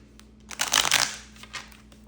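Tarot cards shuffled by hand in a quick, close riffle lasting about half a second, followed by a softer brief flick of cards, with no voices.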